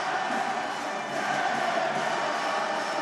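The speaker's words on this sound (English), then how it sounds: "the crowd are on their feet, supporting, singing, dancing" A basketball arena crowd at a FIBA Women's AfroBasket semi-final between Senegal and Nigeria cheers and sings on its feet, a loud continuous roar of voices filling the hall.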